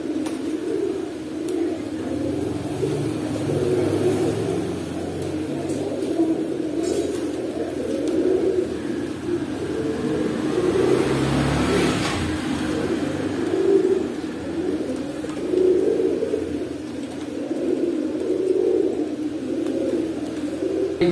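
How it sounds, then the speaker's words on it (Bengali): A pair of Kaldom pigeons cooing softly in a steady low murmur, with faint background noise and an occasional clink. "এখানে একজোড়া কালদম কবুতর আছে, খুব ভালো কবুতর ভাই"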